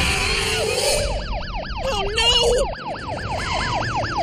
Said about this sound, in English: Man, police sirens are loud!